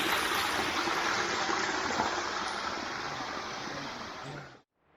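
Constant rushing roar of a waterfall in San Pablo, broadband and steady throughout, ending abruptly; no voices.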